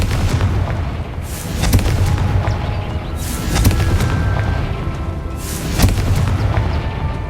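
Confringo, an explosive spell cast in the video game Hogwarts Legacy, lands as a string of loud, booming blasts with sharp cracks, repeating irregularly over a rumbling battle backdrop.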